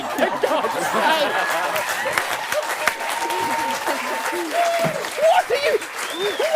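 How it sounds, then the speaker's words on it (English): Audience at a live comedy performance clapping with chatter and laughter, the applause mixed with lively voices and scattered chuckles throughout, fairly close and busy. "What are you all applauding?"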